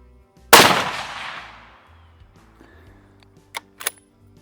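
A single handgun shot fired while the pistol is held sideways cracks out loud and close, its report decaying over about a second, followed by two faint sharp clicks.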